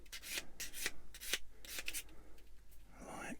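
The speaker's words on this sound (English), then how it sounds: "Quick little dress up with the sander." A small sander or sanding stick dresses up a part from a Bandai 1/144 Star Wars AT-AT plastic model kit in quick, close back-and-forth rasping strokes, soft and rhythmic, with a slightly longer rub at the end.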